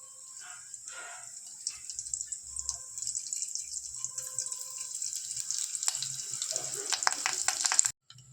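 Cumin, mustard seeds and curry leaves sizzling in hot oil for raw banana curry, a quiet crackle that builds into a denser, louder spitting sizzle before cutting off abruptly.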